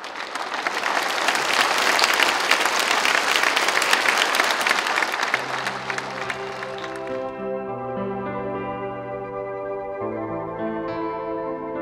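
An audience fills a hall with dense applause after a performance of Amazing Grace, loud and sustained for several seconds before fading as soft music rises in its place.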